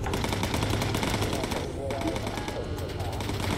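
Sustained rapid machine-gun fire rattles from a bomber's gun station in the World War II flight game Bomber Crew, loud and continuous throughout with no gaps.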